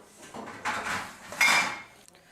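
Dishes, pots and plates are washed by hand, with a few distinct clattering clinks of crockery and metal in a quiet home kitchen and brief pauses between.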